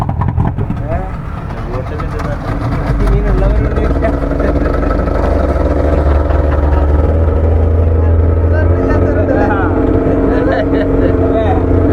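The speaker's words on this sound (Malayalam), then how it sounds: "ഇതാണ് നമ്മളുടെ തോണി, കണ്ടില്ലേ?" A small fishing boat motors back to shore on the sea, its engine humming and chugging steadily while a person talks over it.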